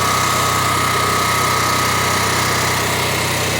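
A backup power generator engine runs at a steady, loud, unbroken drone with a constant hum, close by and alone without voices.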